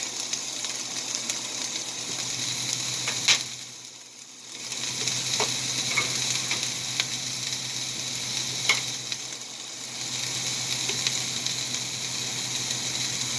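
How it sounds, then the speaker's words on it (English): Minced garlic, about a tablespoon, sizzles steadily in a pan of sautéed kale, a continuous close frying hiss with a few sharp crackles and one short quieter dip. "I am going to add 1 tablespoon of minced garlic."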